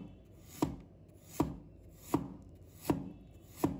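A knife slices ginger on a cutting board: five sharp, evenly spaced chops about three-quarters of a second apart, close and isolated against quiet.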